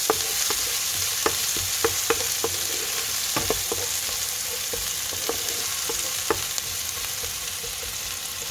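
Onion and green chili sauté in a pan for tinned fish and potato cutlets, an even, close sizzle laced with irregular sharp clicks and taps from the stirring spoon throughout.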